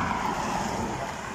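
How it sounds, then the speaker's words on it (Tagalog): Road traffic passing nearby on a walking route, a steady broadband wash of cars going by with no pauses, fairly close and continuous for the whole moment. "Maganda rin dito mag-walking kasi mayroong mga dumadaan na sasakyan."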